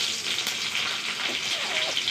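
Mustard seeds, cumin and a dried red chilli frying in coconut oil for a Kerala green gram curry give a steady soft sizzle and crackle with faint pops, close and even throughout, with no talk.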